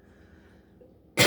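One abrupt, loud cough close to the microphone at the very end, following a quiet stretch with faint room hum.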